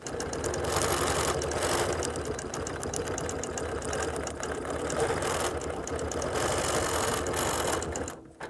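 A sewing machine runs continuously at a steady fast pace while stitching a flower quilting design along a ruler. The close mechanical whir and needle chatter hold for several seconds and stop near the end, with no speech.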